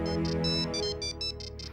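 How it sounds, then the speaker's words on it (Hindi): A phone ringtone plays, an electronic melody of repeating bright tones pulsing in a steady rhythm, close and clear over a low tonal background. "किसका फोन?"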